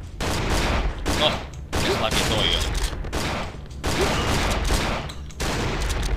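Gunfire from shooting enemies in the horror game Cry of Fear: loud repeated bursts of shots in rapid clusters separated by brief gaps, with a voice talking over part of it.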